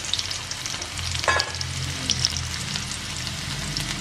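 Dried red chillies and small shallots crackle and sizzle in hot oil for a papaya curry, a steady frying hiss with a brief stir or clink partway through, no voices.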